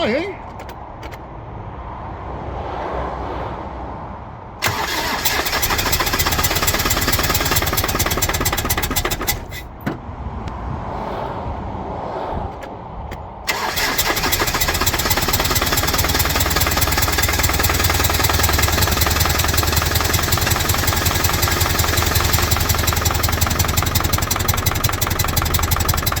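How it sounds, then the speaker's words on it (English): A Land Rover Defender 300tdi with an overheated engine and a freshly removed cylinder head cranks on the starter in two bursts, then catches and settles into a loud, steady diesel running sound nearby, with occasional voices. "Right, let's try starting it and see what it sounds like."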